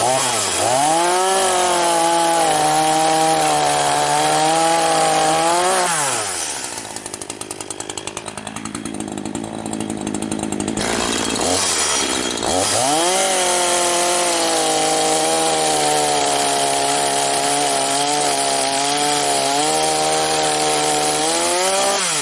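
A sawmill blade runs steadily through wood, cutting double-ended wooden stakes from clamped stock; the loud whine dips and strains mid-cut before returning to a steady high drone, with no voices.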